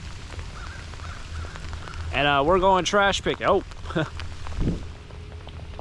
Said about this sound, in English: Really a substantial amount of rain.